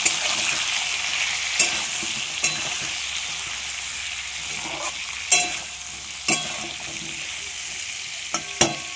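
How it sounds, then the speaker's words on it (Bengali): Teasel gourd frying in a pan over a gas flame, a steady bright sizzle with occasional sharp scrapes and clicks of a spatula stirring, close and alone. "কাঁকরোলটাকে আমি কড়া ভাজবো না, এটাকে আমি মানে ঢাকা দিয়ে দিয়ে গ্যাস কমিয়ে কমিয়ে ভাজবো"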